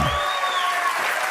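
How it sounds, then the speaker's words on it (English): A crowd cheers and applauds in a dense, continuous roar with a whistle-like tone running through, loud and sustained over a short burst. "they're cheering"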